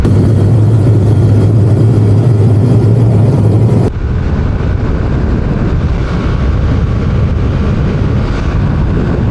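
Loud, steady engine roar of 125cc scooters, including a Yamaha Mio Gear, running at high speed, droning continuously with a brief shift partway through.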